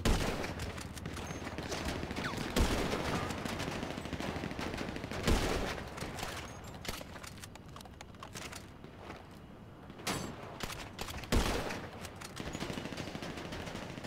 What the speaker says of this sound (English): I'm sniping him with my little pea shooter